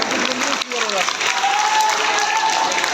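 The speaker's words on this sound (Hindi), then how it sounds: "एक बार जोरदार तालियां बजा दी जाए" Applause from an audience at a Sardar Vallabhbhai Patel birth anniversary gathering in Rudrapur, steady dense clapping throughout with a faint voice carrying over it.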